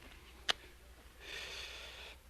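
A cigarette lit and drawn on as an old radio drama sound effect: a sharp single match-strike snap, a quiet pause, then a soft, steady inhaled hiss lasting about a second, faint and close.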